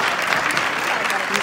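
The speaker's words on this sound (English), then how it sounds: "Let's get yourself a round of applause for looking good." Audience applause at an awards show, a dense continuous wash of clapping that fills the short moment evenly at steady loudness, with voices mixed in.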